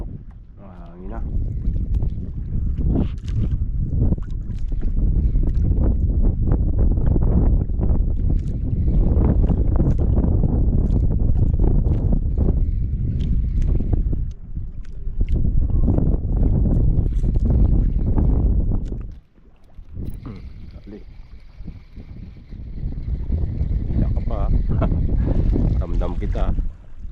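Strong wind roars across the microphone on a small fishing boat at sea during a storm while ultralight casting, a steady loud rush that dips briefly near the end before returning.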